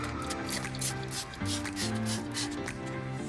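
Shine Armor interior cleaner sprays onto a car's interior surface in a few short, hissing bursts over a steady background hum.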